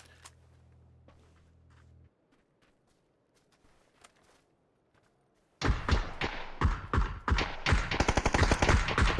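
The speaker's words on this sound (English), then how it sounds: "First shots exchanged." Gunfire exchange in PUBG during a competitive esports match, quiet at first with faint ambience and a soft thump, then an abrupt, loud burst of rapid overlapping shots and automatic fire that continues to the end.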